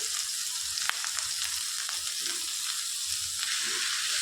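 Finely chopped amaranth leaves go into a pan of softened mango curry, producing a soft, steady frying hiss with faint stirring noises and no speech.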